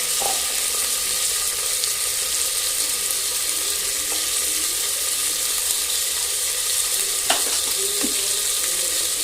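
Tomato, potato and carrot being sautéed in a pan for a home-style horse gram rice dish, giving a steady close sizzle and frying hiss throughout with occasional faint stirring scrapes, and no talk.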